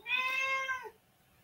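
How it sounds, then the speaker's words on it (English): A single cat meow close by, a clear rising-then-falling cry lasting just under a second, followed by quiet. "the cat is meowing at me"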